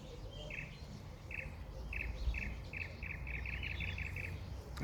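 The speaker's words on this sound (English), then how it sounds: "If you know what bird is making that sound" A bird at the President Ridge bird sanctuary repeats a quick chirping call in a steady series, growing faster toward the end, heard at moderate distance over a low outdoor background rumble.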